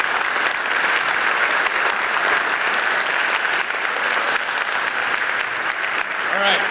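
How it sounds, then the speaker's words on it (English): A school audience at an event with an Army command sergeant major gives a round of applause: dense, even clapping from a crowd that holds steady throughout, with a faint voice near the end. "let's give her a round of applause"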